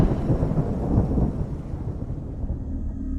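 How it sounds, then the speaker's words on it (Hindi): Thunder as a sound effect in a Hindi horror story, a deep, heavy rumble rolling continuously for about three seconds, loud and close with a faint rain-like wash behind it and no voices. "एक तेज बिजली की आवाज हुई"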